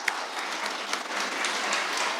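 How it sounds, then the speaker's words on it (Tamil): Parents in the audience at a school annual day celebration clap together in a steady, dense round of applause that carries evenly through the whole short stretch. "பேரண்ட்ஸ் எல்லோரும் ஒரு பெரிய கைதட்டு கொடுங்க."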